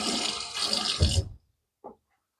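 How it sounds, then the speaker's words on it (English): Water from a tap runs steadily onto a Martin de Candre shaving soap puck for about a second, then cuts off, followed by a brief faint drip or splash. "Let me get a little water on here."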